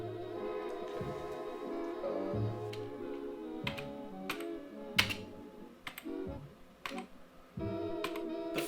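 Computer keyboard being typed on nearby, with irregular clusters of crisp key clicks and a few louder taps, spaced by short pauses over a faint background hum with no talking.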